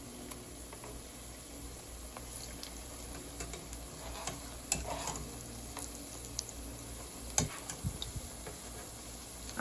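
Onions frying for piyaju in a pan, turned with a thin skewer-like stick: a quiet, steady sizzle with soft scattered clicks and scrapes of stirring, no voices.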